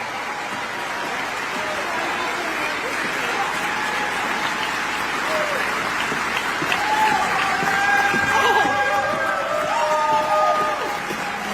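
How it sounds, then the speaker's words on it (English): Steady audience applause mixed with crowd murmur and scattered whoops fills a hall at a Democratic political event honoring Durbin, sustained and fairly loud throughout with some voices rising above it. "To please give her a big round of applause."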